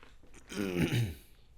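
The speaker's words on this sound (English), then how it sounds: "smoker's cough" A single rough, throaty smoker's cough burst, close and moderately loud, with a brief rasp before it and quiet around it.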